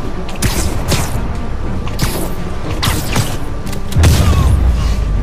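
Sharp bursts and booms go off at intervals amid mechanical clatter in the video game Spider-Man on PS4, ending in a heavier, deep explosive rumble.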